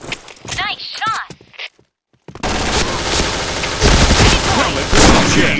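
Gunfire in a shooter video game, a dense loud stream of rapid shots and clatter that starts abruptly after a short silence, with voice activity and game effects before it.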